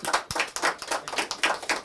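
A crowd at a Sampark Samaj calendar launch event claps in quick, close rhythmic bursts, with no talking over it.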